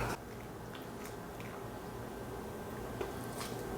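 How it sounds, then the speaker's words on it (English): Freshly boiled noodles lifted and slid into a coconut, ginger and scallion broth, giving soft wet squishes, drips and light clicks close by, with no voices. "So all we gotta do now is transfer them to the broth."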